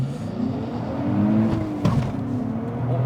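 A 2023 Nissan Z accelerating hard with flat-foot shifts, engine note climbing steadily, then a brief sharp break at a gear change before the revs continue, close and loud with no talk.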